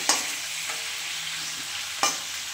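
Fish frying in a pan for a light home-style curry, giving a steady, close sizzle with a couple of sharp clattering stirs, no voices.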